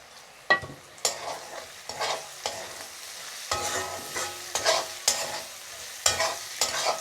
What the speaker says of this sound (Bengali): এখন এটা কিছুক্ষণ ভেজে নেব।